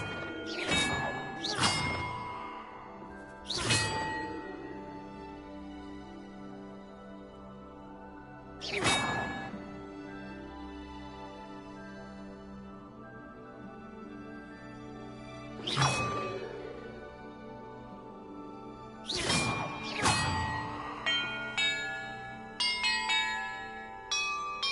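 Bells ring in the video game Hogwarts Legacy, single bright metallic strikes spaced several seconds apart with long ringing decays, followed near the end by a quicker run of chimes.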